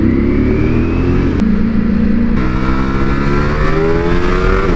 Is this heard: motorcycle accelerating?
yes